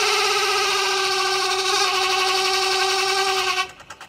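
Washing machine spin dryer tub with a torn part, whirring and rattling at high speed, a loud steady harmonic drone with buzzing rattle that cuts off abruptly near the end.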